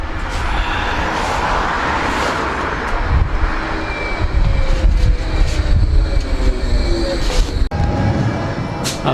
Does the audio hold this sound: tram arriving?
yes